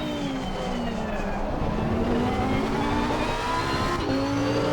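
A GT race car on an out lap at Silverstone in Assetto Corsa Competizione, its engine droning loud and close as it shifts through the gears, with brief tire squeal and no talking.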